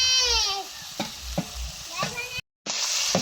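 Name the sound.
fish frying in a pan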